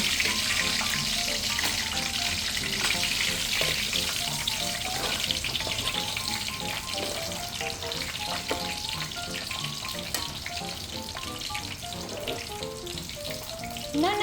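Loud, steady sizzling and crackling of pork belly deep frying in hot oil on its second fry, continuous throughout with scattered pops and spatters, close by and no talking.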